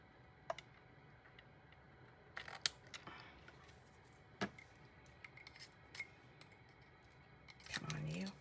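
Scissors snipping a small piece off a handmade card, a few soft separate clicks and snips close by, faint and sparse against a quiet room.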